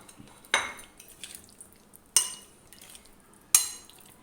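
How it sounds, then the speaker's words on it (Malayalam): A utensil knocks sharply against a pan three times, spaced a second or more apart, as fried chicken is mixed into a spicy sauce for a mini pita bread filling, with soft scraping between the knocks and no voices. "ഇനി നമ്മൾ വറുത്ത് വെച്ച ചിക്കൻ അതിൽ ആഡ് ചെയ്യാം"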